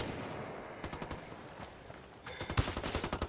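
Heavy gunfire erupts in a video game firefight, bursts of rapid automatic shots, fairly faint and distant at first, then a louder, closer volley near the end.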